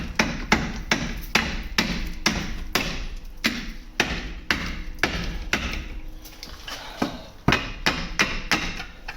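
Repeated hammer blows on a seized brake disc of a Vauxhall Cavalier CD 2.0 16v, metallic thuds landing in a steady rhythm about twice a second, loud and close with no talking.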